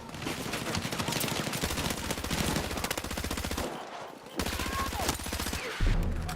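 Rapid automatic gunfire in the Battlefield 6 video game, dense sustained bursts with short pauses, loud and close with a few brief breaks between volleys.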